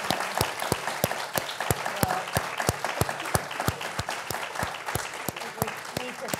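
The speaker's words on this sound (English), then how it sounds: "Let's give them a round of applause." An audience at a Women's History Month panel event applauds the panelists, with crisp, evenly paced claps standing out over a steady bed of clapping from the room.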